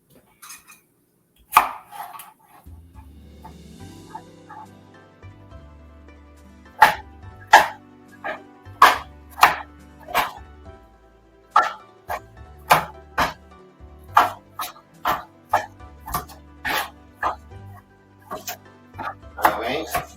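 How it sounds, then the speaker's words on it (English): A knife chops onion on a cutting board at a home kitchen counter, sharp close knocks that start sparse and settle into a steady rhythm of roughly two per second, with a faint low hum underneath. "So you don't need a lot of onions. I'm just putting just a few. You want to chop it up really nice."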